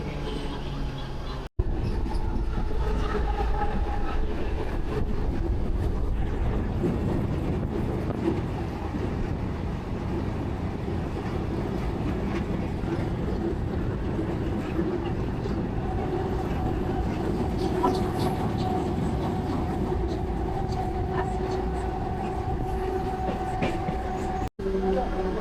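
Train pulling out of Malpur station, a continuous rumbling ride with rhythmic wheel clatter and carriage rattle heard from on board, steady and fairly loud, with two sharp brief knocks.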